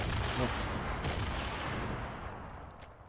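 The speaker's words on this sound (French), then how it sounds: "C'est toi qui me jetais des grenades" Gunfire and explosions rumble in an online shooter video game, a dense burst of shots and booms near the start fading into a muffled, distant rumble.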